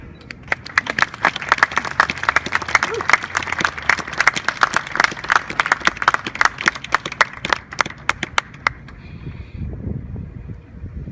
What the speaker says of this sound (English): Ladies and gentlemen, please join us in applauding the award recipients and meritorious promotion for Company A.